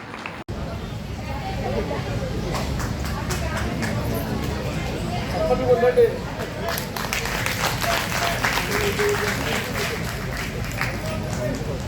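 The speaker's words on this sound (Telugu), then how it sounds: "అందరు లేచి నిలబడి కొడితే ఇంకా బాగుంటుంది." A crowd at a felicitation event claps steadily and loudly, sustained applause with crowd murmur and voices underneath.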